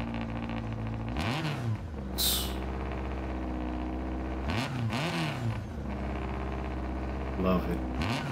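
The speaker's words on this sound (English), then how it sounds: "Man, listen to that engine." A rally car engine in Gran Turismo 7 revs up and drops repeatedly in loud sweeping surges, with a steady engine drone underneath throughout.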